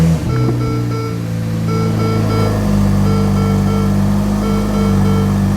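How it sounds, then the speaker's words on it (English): A Ferrari F8 Tributo engine cold starts and settles into a loud, steady idle with a deep, droning rumble. "Let's get the first little cold start going here."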